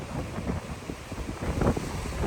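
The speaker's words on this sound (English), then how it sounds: "it's so windy down in here" Strong gusty wind at a swimming hole along Maui's Road to Hana buffets the microphone in uneven rumbling bursts, with a roaring outdoor wash underneath.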